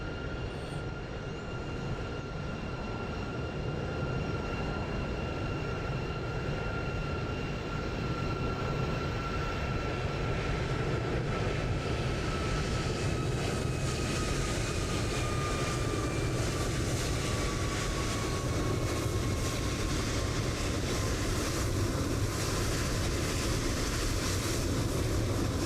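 An Airbus A320 landing at Frankfurt in Microsoft Flight Simulator 2020, a dense continuous roar of engine and rolling noise with a slowly falling whine, steady and loud for the whole stretch, with no voices.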